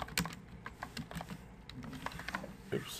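Keys clicking on a computer keyboard in short, uneven bursts of close taps with brief pauses, quiet and alone with no talk.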